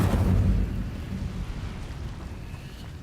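Incendio fire spell blast in the Hogwarts Legacy video game: a loud, rumbling burst of flame that opens strongly and then settles into a steady roaring crackle, with no voices.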